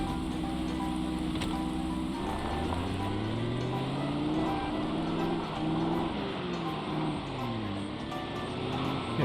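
A small sports car engine in the zombie survival game Project Zomboid drones steadily, its pitch rising and falling as it accelerates and eases off, heard alone and fairly loud throughout.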